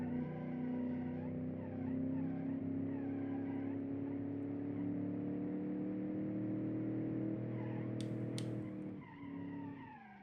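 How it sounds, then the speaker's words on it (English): A 320-horsepower V8 makeshift school bus with locked differentials drives up a hill, its engine holding a steady, droning tone while the tyres scrub and skid, ending with a brief dip and a sharp click. "with the diffs locked, it likes skidding around"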